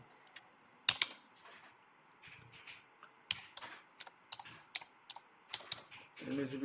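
A computer keyboard is tapped in short irregular bursts of quiet clicks, close and alone, with a few sharper keystrokes standing out.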